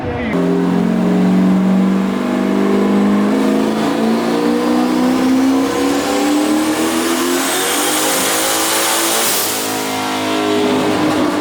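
A car engine revs hard on a dyno at a drag-racing dyno night, climbing in a long, loud, rising pull with boost, then easing off; voices are faintly heard beneath it.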